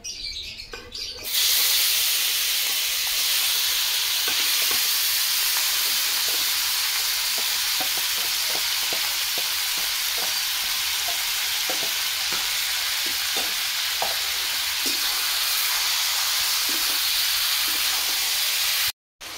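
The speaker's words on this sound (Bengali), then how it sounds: "সব কিছু উপকরণ দিয়ে মাংসটা মেখে নিয়েছি, কড়ার মধ্যে দিয়ে দেবো।" Marinated chicken dropped into a kadai with fried potatoes, starting a loud, steady hiss of frying that continues close and unbroken, with occasional light clicks and no talk.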